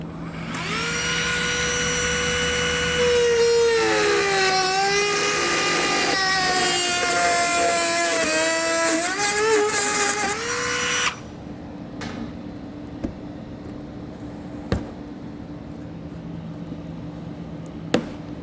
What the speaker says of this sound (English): we can take our cutoff wheel and go ahead and remove the material